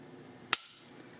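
Overwatch Precision polymer trigger in a Glock breaking, a single crisp close click with a brief bright ring after it, alone against faint room noise.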